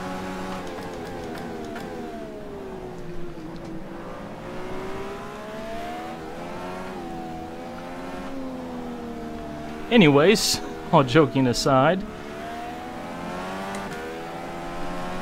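Indycar DW12 race car engines in rFactor 2, Honda or Chevrolet, drone with rising and falling harmonic pitch as the car accelerates and shifts, with sharp revving bursts partway through, heard under someone talking.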